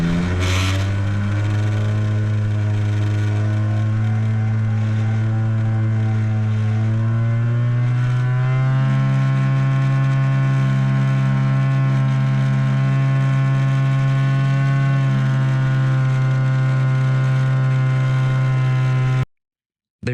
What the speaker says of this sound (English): so it's time to fire up the motor